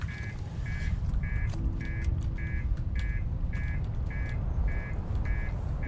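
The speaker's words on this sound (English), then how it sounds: "You're fine, stop beeping at me." A spaceship warning alarm in a video game beeps in a steady, evenly spaced series of about ten tones over a low rumbling background hum.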